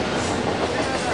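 Amtrak train passing through Fullerton station, a continuous loud, broad rumble and rush of rail cars rolling close by.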